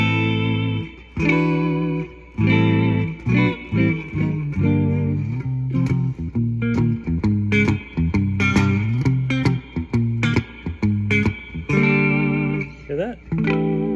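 An electric guitar, a Musi Virgo Fusion, plays through a 1990-1991 Ampeg AX-70 amp on its clean channel with reverb: ringing chords and single notes in a loose, close, fairly loud jam.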